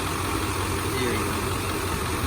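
A 1995 Chevy K1500 Silverado with a 355 TBI V8 idling, a steady, even low rumble close by, continuous and unchanging.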